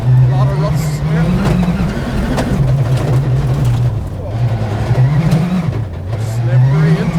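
A Citroën WRC rally car is driven hard through woods over a rutted, slippery, icy forest track, its engine a loud, continuous close-up drone that rises and dips with the revs.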